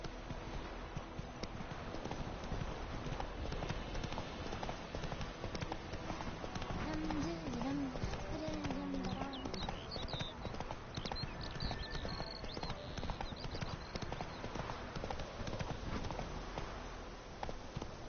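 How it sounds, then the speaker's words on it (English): Roach, a horse in the video game The Witcher 3: Wild Hunt, gallops with a fast, rhythmic clip-clop of hooves that continues steadily throughout, alongside low game ambience, and a voice speaks briefly partway through. "Run, Roach."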